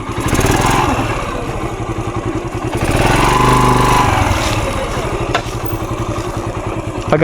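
A motorcycle engine at a lakeside campsite in Cavinti, Laguna, chugging nearby with a rapid low pulse that swells briefly as it revs, then settles back to a steady idle.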